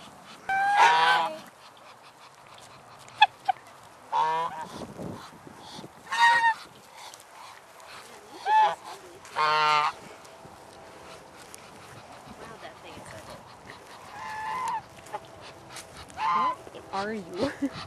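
A goose honks repeatedly in short, harsh bursts spaced a few seconds apart, close by, with faint background noise between calls.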